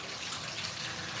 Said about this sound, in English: when you turn on the water to this bath